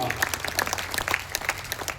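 Thin, scattered applause from a small audience at a Hindi poetry recital, a light patter of claps rising and falling with a faint voice underneath.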